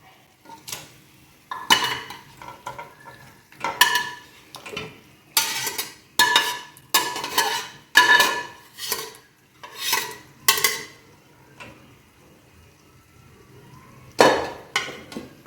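A spoon scrapes and clanks against a pan while cooked mutton is mixed with soy sauce, about a dozen irregular metallic stirring bursts separated by short quiet gaps, close and clear.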